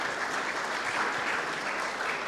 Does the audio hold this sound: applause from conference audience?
yes